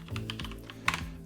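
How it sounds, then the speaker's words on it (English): Typing on an EVGA Torque Z10 mechanical keyboard: a quick burst of several close, crisp key clicks over about a second, with one sharper louder strike near the end, no talking. "EVGA Torque Z10 keyboard is set up and ready to rock"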